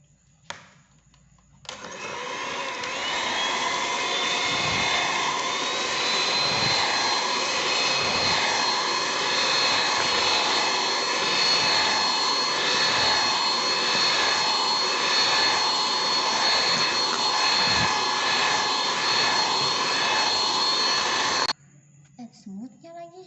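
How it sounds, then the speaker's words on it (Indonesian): An electric hand mixer whips egg whites for a cheese chiffon cake, a steady loud whirring drone that starts abruptly after a short pause, holds for about twenty seconds with slight pitch wavering, then cuts off. "Putih telur ini nanti kita mixer."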